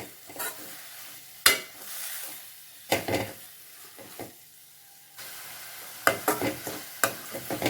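Fenugreek greens are stirred in hot oil in a pan, with scraping strokes and bursts of sizzle coming in uneven waves close up, and no voices.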